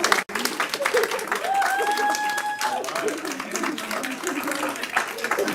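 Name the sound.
audience applause at a council meeting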